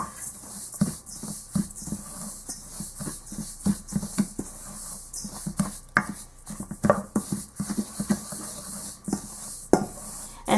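Dry baking ingredients, including stevia, baking powder and salt, being stirred together in a bowl for a low carb bagel dough, with repeated scraping and tapping strokes at close range and no talk.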